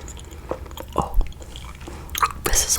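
Chewy caramel-filled chocolate Whirly Swirlies worms being chewed close up, soft sticky squishes and wet mouth sounds in an irregular rhythm, with quiet breathy noises between bites.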